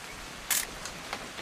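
An old camera shutter snapping a photo in the video game What Remains of Edith Finch, one crisp, close mechanical click followed by a couple of fainter clicks as it winds on, with no voices.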